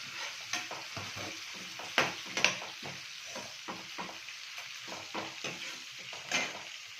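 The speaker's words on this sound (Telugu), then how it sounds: "కొంచెం ఫ్రై కాగానే ఫస్ట్ మనం కట్ చేసి పెట్టుకున్న అరటికాయలన్నీ వేసుకుందాం" Cut raw banana pieces sizzle in hot oil in a pan, with a steady frying hiss broken by repeated scraping stirs, close and fairly quiet, no talking.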